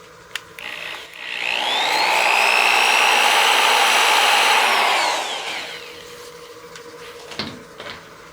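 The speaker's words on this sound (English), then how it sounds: "So I'll actually just sand with my 320. And we'll drop that speed back down to about 500 RPM." A wood lathe whirs at about 500 RPM while a spinning utility box is sanded with 320 grit, a smooth rising hum that holds steady for several seconds and then fades.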